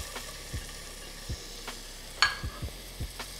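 Half a diced onion going into a hot pan with garlic, with soft stirring scrapes and knocks repeating every half second or so over a faint steady sizzle, plus one sharper clatter near the middle.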